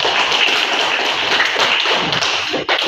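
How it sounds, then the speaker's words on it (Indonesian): High school students clapping together, a dense, continuous crackle of many hands held steady throughout at close range, without talk. "Tepuk tangan anak SMA."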